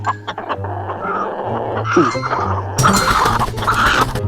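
A rooster in a cockfighting video game clucks and crows amid game sound effects, a steady low hum, clinks and a louder burst near the end, fairly close and clear.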